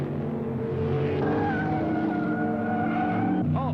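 Camel GT race cars lapping at Road Atlanta in 1976, engines roaring loudly and continuously with pitch sliding as cars pass close by, plus a sharp tire squeal near the end.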